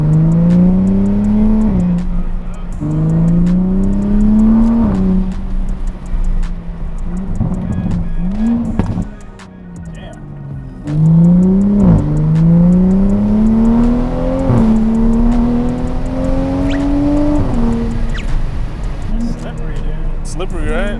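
A Toyota A90 Supra on a burble tune with 275 front tires, revving hard through gears with rising engine tones and crackling burbles on lift-off, loud and close, with someone talking over it.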